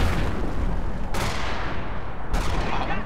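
Two heavy booming shots from a 17-pounder anti-tank gun in the Company of Heroes game, one about a second in and another near the end, loud over a constant rumble of battle.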